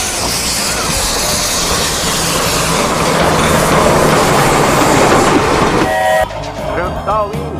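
A toy train runs on its track among toy houses, making a close, steady rattling clatter that stops abruptly near the end. Brief tonal toy chirps follow.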